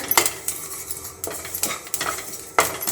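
Tamarind-based puliyogare gojju splutters as it boils in a deep cooking pot. A spoon stirs it with several sharp metallic clinks and scrapes over a bubbling sizzle. No voices are heard.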